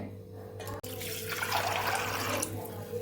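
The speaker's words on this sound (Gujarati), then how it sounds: "તો અહીંયા આપણે પાણી ઉમેરી દીધું છે" Water runs steadily from a tap into a cooking pot for boiling chickpeas and potatoes, a continuous close splashing rush after a brief knock at the start.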